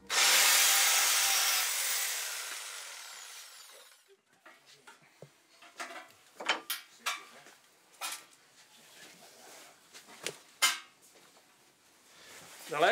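Small hand saws rasp and scrape against wood while carving a statue, heard as irregular bursts of cutting strokes after a loud broadband wash at the start, close and fairly clear.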